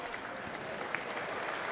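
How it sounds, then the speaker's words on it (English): Applause from the crowd at a military combatives flyweight gold medal MMA match, a steady wash of clapping that holds throughout at moderate, distant loudness. "the crowd appreciative in their applause"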